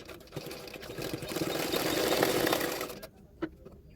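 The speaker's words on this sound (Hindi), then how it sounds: "तो 1/2 इंच इस तरह से मार्जिन रखते हुए और एक सिलाई डाल देना है।" A sewing machine stitches a double Katori boat neck blouse, a steady mid-pitched whirring run that swells and then stops abruptly, followed by a single faint click, heard close with no talking.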